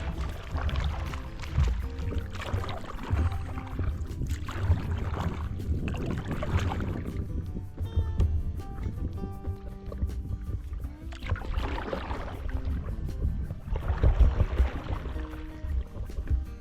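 Kayak paddling on choppy, windy water: steady splashing and sloshing strokes close by, recurring in bursts through the whole stretch, with wind buffeting underneath and no talk.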